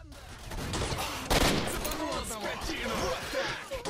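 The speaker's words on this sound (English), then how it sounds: "Well, it's not a stun grenade, but that explosion was beautiful." A grenade explodes amid bursts of gunfire in the S.T.A.L.K.E.R. video game, forming a dense, loud rattle of shots with a heavy blast near the middle. Voices talk over the din.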